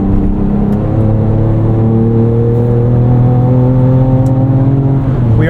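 A 2024 Ford Ranger Raptor with a performance tune adding about 50 hp accelerates hard in R mode on a highway, its engine droning loud and close with rising harmonic pitch throughout.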